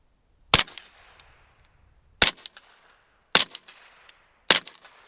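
Four sharp pistol shots from a handgun fitted with a Flux Defense Raider brace, loud and close, spaced unevenly with a brief ringing tail after each.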